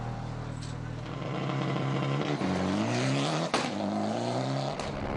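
Rally car, a Skoda Fabia S2000 or Peugeot 207, on a special stage of the 2013 Sibiu Rally in Romania, engine rising and falling through gear changes as it passes, with commentary talk over it.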